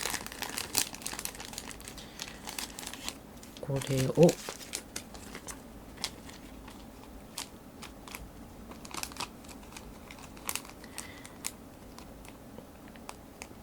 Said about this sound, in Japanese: 硬質ケースに対して OPP をかぶせていきたいと思います。